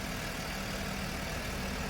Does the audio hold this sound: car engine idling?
yes